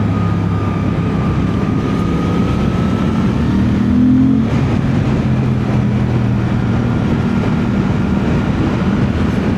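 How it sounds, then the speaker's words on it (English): Suzuki GSX-8R motorcycle with an aftermarket exhaust at cruising speed: a steady low engine drone under rushing wind, with a brief swell in revs midway. "And that exhaust, man, it did change how the bike sounds."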